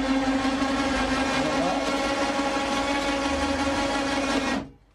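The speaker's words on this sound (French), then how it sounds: "On remonte le moteur." A boat's outboard motor being raised gives a steady loud mechanical whir with a constant tone, running evenly before cutting off abruptly near the end.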